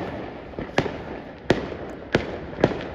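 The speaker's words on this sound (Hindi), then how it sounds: "हर जगह बस भाई पटाखे फटने की आवाज आ रहे हैं।" Diwali firecrackers bursting in the distance, four sharp cracks spaced well apart over steady background crackle and noise, with no one talking.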